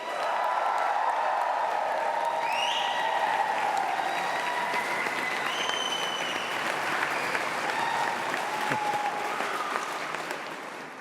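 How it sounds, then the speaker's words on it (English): Large graduation ceremony audience applauding and cheering in a hall, a sustained roar of clapping with scattered whoops and shouts throughout. "One more go, a huge cheer."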